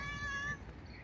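A single drawn-out cat meow, fairly faint and close, fading into quiet background hum.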